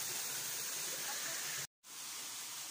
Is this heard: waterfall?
yes